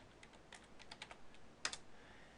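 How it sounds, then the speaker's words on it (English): A computer keyboard is typed on at a command prompt, a quiet, fairly close run of light key clicks with a quick double tap near the end. "you can type in ipconfig"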